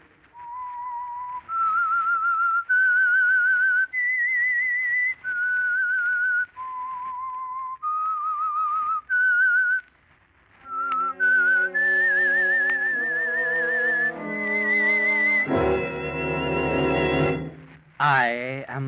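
A clear melodic whistle plays a slow rising-and-falling tune of sustained notes as a radio show theme signal, then music swells in with a brief orchestral flourish at the end.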